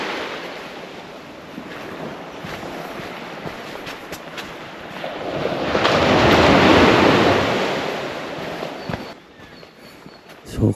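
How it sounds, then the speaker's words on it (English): Waves crash and wash onto a Tasmanian beach, swelling to a loud roaring surge midway before easing back, with light wind buffeting in the background. "So quiet, all you can hear is the crashing of the waves."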